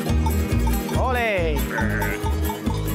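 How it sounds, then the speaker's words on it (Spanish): Sheep bleating on a farm in the Canary Islands, a wavering bleat rising over a noisy background while people talk close by. "Mira, todas las ovejas ahí, ¿las ves ahí?"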